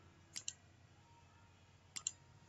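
Mouse clicks on a save button during computer work, two quick pairs of sharp, faint clicks about a second and a half apart over quiet room hiss.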